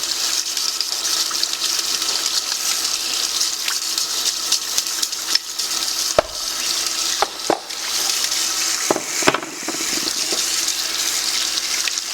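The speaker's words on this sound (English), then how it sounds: "Just get it under running water, run a brush across it" Steady running tap water splashes without pause, with a few brief clicks and clatters as Angel Juicer gears are rinsed and handled under the stream.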